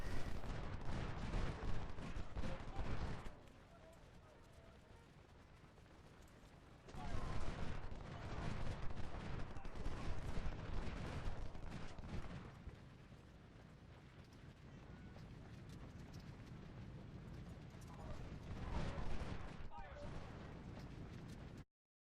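Infantry volleys in a Civil War strategy video game, dense rolling musket fire and booms in loud bursts that ease off and swell again, with a voice talking over parts of it.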